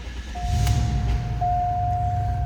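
A 2000 Cadillac Eldorado ESC engine turns over and settles into a steady low idle, with a sustained electronic warning chime ringing over the rumble.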